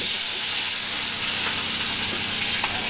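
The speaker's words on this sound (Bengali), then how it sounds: "দেখতে পাচ্ছেন তেল গরম হয়ে গেছে, আর এখানে মাছ কটা চিংড়ি মাছ রয়েছে" Shrimp fry in hot oil in a kadai, giving a steady, close hiss of sizzling and steam that holds evenly from start to finish with no talk.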